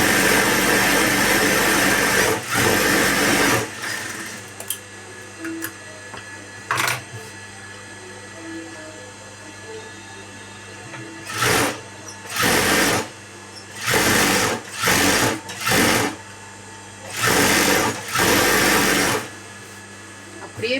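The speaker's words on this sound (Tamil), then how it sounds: "அப்படியே பதிச்சு ஒரு தையல் போட்டுருவோம்." An electric sewing machine stitches a patchwork blouse, running in repeated loud bursts of fast whirring needle action separated by short pauses, with someone talking during the quieter stretches.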